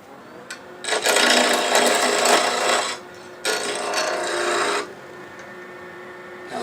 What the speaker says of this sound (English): I'll go ahead and use my spindle gouge.